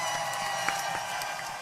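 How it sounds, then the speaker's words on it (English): An applause sound effect inserted into a livestream, a steady, dense wash of many hands clapping at moderate level throughout, with a few faint distinct claps on top. "I forgot that I added applause"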